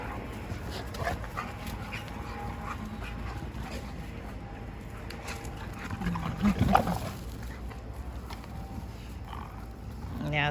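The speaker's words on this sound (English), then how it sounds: "all that little noise that you heard, that was kind of growling was Jack." Low, rumbling growls and whimpering noises from Dogo Argentino dogs at play, close by and fairly quiet, with a louder burst of growling midway through.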